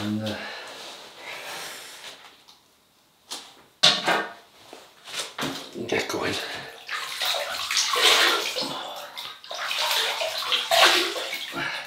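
Water splashes and sloshes at a sink as hot water is scooped onto the face before a wet shave, with breathy snorts and rustling between the bursts, the splashing growing fuller and louder toward the end.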